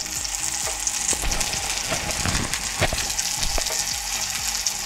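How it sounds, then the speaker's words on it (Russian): Pumpkin pieces frying in a pan, cooked for oven-baked pumpkin, give off a steady, close sizzle with scattered clinks and scrapes from stirring throughout. "Мы обжарили нашу тыкву."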